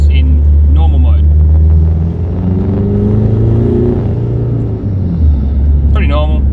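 A car's engine is floored in second gear from just under 2000 rpm, a loud, deep rumbling drone that swells steadily under a voice.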